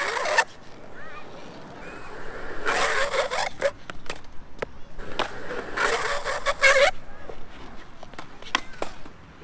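Skateboard sliding on Bones STF V5 conical wheels, with rough grinding slide bursts and scraping rolls close by, several separate slides spaced across the clip.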